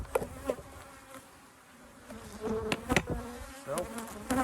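Bees hum and buzz steadily around an open beehive that is crowded enough to need splitting, a dense close drone rising and falling with sharper passes from individual insects flying near.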